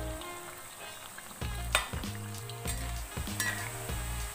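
Tempeh fries in a pan with a steady sizzle, broken every second or so by the scrape and knock of a utensil stirring it, close and moderately loud with no talking.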